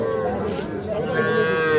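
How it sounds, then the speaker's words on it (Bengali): Cattle moo loudly and close by at a crowded calf market in rural Bangladesh, one long drawn-out lowing call that swells toward the end over a murmur of background crowd noise. "অসংখ্য বাছুর আমদানি হয়েছে"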